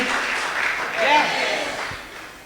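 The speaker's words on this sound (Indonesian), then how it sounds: "tepuk tangan buat grup terakhir" A crowd applauds in a steady wash of clapping that swells briefly and then slowly fades, with voices mixed in.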